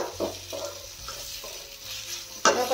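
A thick besan pithla is stirred in a pan over low gas, giving rhythmic scraping strokes about every half second, close and fairly quiet, with one louder scrape at the end and no talking.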